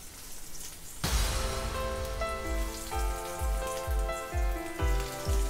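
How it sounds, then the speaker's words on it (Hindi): Hara bhara kababs shallow frying in a pan, a sudden broadband sizzle starting after a quiet second, with crackling and spattering and a few bursts of oil popping, steady and close, with no talking. "इसी तरह से बाकी बचे कबाब को भी हम सैलो फ्राई कर लेंगे।"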